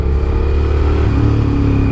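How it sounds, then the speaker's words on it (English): A Suzuki SV650S V-twin motorcycle engine, restricted to 47 bhp, runs with a loud, deep, continuous throb close by, holding a steady level with no voices. "And the V-twin sound, when you open this thing up,"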